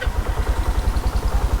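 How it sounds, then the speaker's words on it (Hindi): A Bajaj CT110X motorcycle engine runs quietly after starting, a soft, regular low putter with an even pulsing beat, close by and alone, without talk. "बाइक इतनी साइलेंट है, अगर मैं स्टार्ट करूँगा तो बहुत कम आपको आवाज़ आएगी।"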